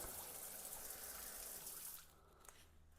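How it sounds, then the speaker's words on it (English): Water gushes steadily into a shower drain from close by, a dense continuous rush that tapers off and quiets near the end. "So what I'm going to do is I'm going to fill it back up with water"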